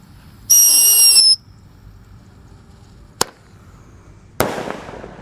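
A Happy Power firework set off for Takbiran night: a sharp whistling launch, then two separate explosive bangs, the first a clean crack and the second a loud burst with a crackling, hissing tail. No one speaks.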